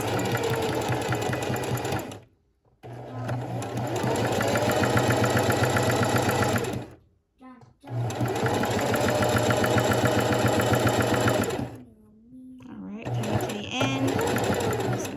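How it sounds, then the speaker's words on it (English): A sewing machine stitches ribbon onto the body of a tutu in loud, steady runs of stitching, pausing briefly between bursts for forward and back stitches, with someone talking over the machine. "forward stitch and back stitch"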